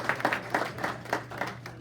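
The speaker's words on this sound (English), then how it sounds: "Let's give them another round of applause" Applause from a small audience at a board of directors training session in a meeting room, a sparse round of clapping with distinct hand claps in a loose rhythm over a steady low hum, moderately quiet and without talk.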